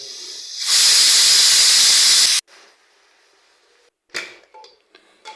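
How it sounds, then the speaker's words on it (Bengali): Pressure cooker whistling while cooking Bangladeshi-style goat nihari: a loud, sharp burst of hissing steam lasting under two seconds, then a quiet pause and a few faint clinks and hisses. "10 থেকে 12টা সিটি দিয়ে দেব।"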